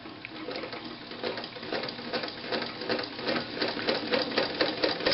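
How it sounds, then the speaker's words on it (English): A Morse DeLuxe zigzag sewing machine stitching: a quiet, rapid mechanical clatter with an even rhythm that runs steadily throughout, faint and close, with no talking. "still a very quiet machine even when it's sewing"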